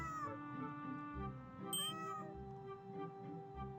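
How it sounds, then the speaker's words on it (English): A domestic cat meowing several times, faint and close, mixed with a soft background tone and a brief bright chime-like sound midway, no clear speech. "Here, kitty, kitty."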